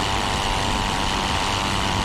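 Engine roar of a Pfalz E.II First World War monoplane in the Rise of Flight flight simulator, a loud, steady droning rumble mixed with rushing wind, constant and unbroken.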